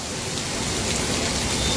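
Heavy unseasonal rain pours down steadily on a road in Morbi, Gujarat, a dense, continuous hiss with no pauses and no voices.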